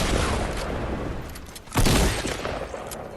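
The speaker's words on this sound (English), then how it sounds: "that rocket flew right by my face" A rocket streaks past in the Fortnite Battle Royale video game. A sudden loud whooshing burst cuts through steady gunfire and battle noise, then fades back into the background.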